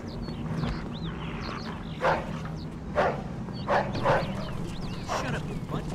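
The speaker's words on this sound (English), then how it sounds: "Dog could be a problem." A dog in the Mafia II video game barks and yips in a few short bursts over a steady low game hum, with some faint background talk.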